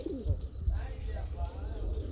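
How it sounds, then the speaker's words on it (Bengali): Low, throaty pigeon coos repeat softly amid a busy background with some nearby voices and rustling. "দেখতে পাচ্ছেন নটটা ডাকতে আছে হিউজ পরিমাণ"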